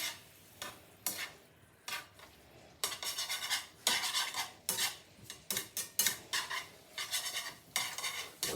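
Spaghetti with anchovies stirred in a pan: repeated close scraping and clinking of a utensil against the pan in uneven bursts, with a faint sizzle underneath and no talking.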